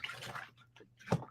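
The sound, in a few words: stamp put into soapy water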